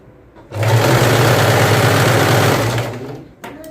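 A sewing machine starts up and runs steadily at speed with a low motor hum and rapid needle clatter, close by, then slows and stops.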